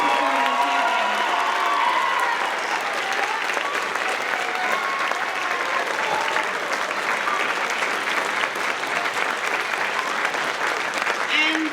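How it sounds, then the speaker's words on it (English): A school percussion concert audience applauds the students who performed, sustained loud clapping mixed with crowd noise and scattered cheers, with a voice speaking over it at the start. "Can we please have one more round of applause for all of the students that performed"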